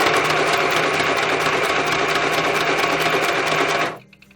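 A sewing machine stitches a junk journal pouch in one loud, steady, close run of fast needle chatter and motor whir, which stops abruptly near the end, leaving near quiet.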